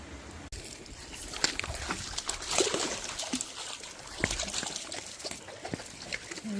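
Creek water flows at a rocky crossing and pool along West Clear Creek, a close, splashing trickle and gurgle with scattered louder splashes throughout.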